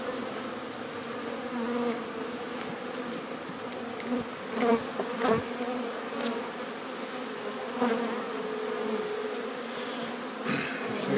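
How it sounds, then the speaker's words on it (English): Honey bees buzz steadily in a dense, close drone around an open hive during a late-season inspection in Newfoundland, with occasional louder passes as individual insects fly near. "So we got some bees down here."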